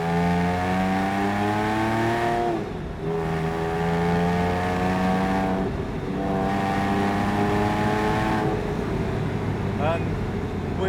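A Porsche 911 997.1 Carrera 4S with Tiptronic automatic transmission accelerating: a loud, steady engine drone climbs in pitch, then briefly dips at each of three gear changes before rising again.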